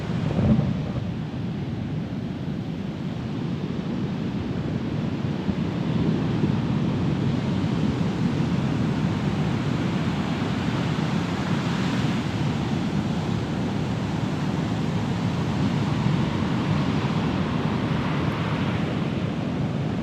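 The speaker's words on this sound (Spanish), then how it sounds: "Vamos a ver, miren el mar, vamos." Sea waves break on a Caribbean beach with black sand in southern Costa Rica, a steady, loud, close surf roar with gusting wind across the whole stretch and no voices.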